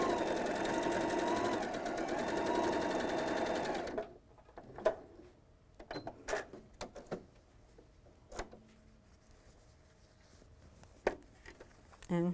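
A sewing machine runs fast and steady, stitching a quilt block for about four seconds, then stops, leaving scattered clicks and handling noises from the fabric and machine.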